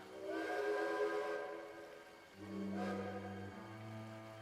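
Steam locomotive whistles in a Trainz simulation sound in two long, loud sustained blasts, the first fading into an echo before a second, deeper multi-tone whistle sounds, with no talk.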